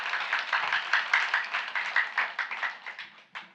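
A church congregation claps for children in a rhythmic, fairly even beat of close handclaps that tapers off over a few seconds, with a final clap after a brief gap.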